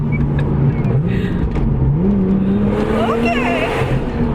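A 350 hp Lotus Evora S, mid-engine and rear-wheel drive, accelerates hard, its engine note climbing steadily and droning loud from inside the cabin with faint voices underneath.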